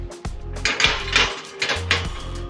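A metal grill clipped onto a KampCo butane stove, giving a series of close metallic clanks and rattles, four or five distinct knocks in quick succession.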